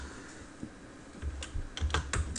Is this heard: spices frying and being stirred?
no